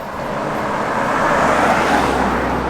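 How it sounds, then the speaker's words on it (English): A car goes by on a road at 7 o'clock in the evening, passing a person out on a walk; the broad, steady roadway rush swells slightly toward the middle and lingers, with no talking. "There's a car."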